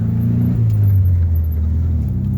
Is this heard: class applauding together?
no